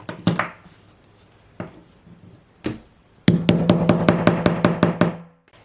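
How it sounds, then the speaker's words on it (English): Cutting tool punching a grommet hole through a zip bag, heard as a few sharp knocks and thuds, then a rapid run of about ten crisp taps close by, with no talk. "you want the cutting tool placed on top of that. Cut that hole."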